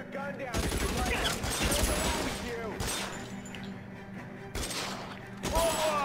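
Bursts of gunfire from a shootout in LA Noire crackle loudly and continuously, and someone talks over the shots.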